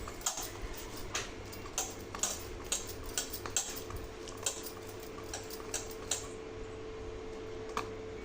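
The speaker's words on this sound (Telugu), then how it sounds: "ఇదంతా ఉండేది తీసుకొని గరిటెకు ఉండేది చూడండి, ఇలా బాగా కలుపుకోవాలి" A ladle stirs a thick sweet mixture in a pan with a steady run of light, ticking taps and scrapes, close and faint over a low background hum.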